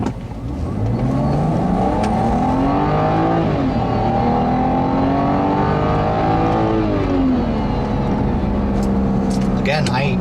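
A 2011 BMW 328i xDrive sedan takes corners, its engine note rising and falling steadily and continuously throughout, with someone talking over it the whole time.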